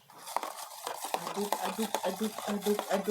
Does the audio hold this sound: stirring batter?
yes